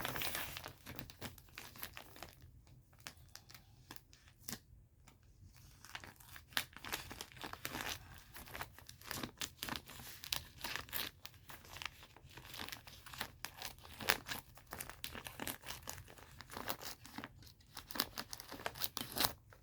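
An old sack is cut in half to make a grocery bag, with crinkly, tearing snips and rustling of the coarse material in uneven bursts, quiet and close.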